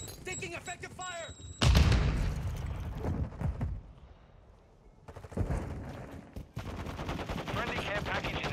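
Rapid bursts of gunfire and heavy impacts from a Call of Duty Modern Warfare 2 team deathmatch match, loud and close, with game radio voices talking between the shots.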